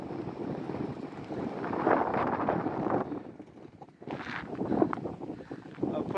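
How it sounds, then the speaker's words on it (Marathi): Wind blows across the open ground at Chitri dam, a loud rushing buffet that batters the microphone in gusts and eases for a moment before surging back. "वाऱ्याचा आवाज घ्या."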